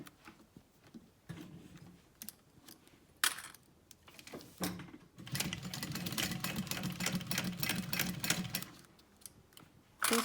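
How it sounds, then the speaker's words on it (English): A sewing machine stitching across multiple fabric layers of a purse in short bursts of rapid mechanical stitching, then a longer steady run, with clicking ticks between stretches. "take it to my machine, and we're going to sew across here"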